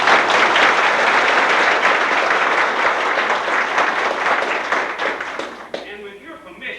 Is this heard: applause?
yes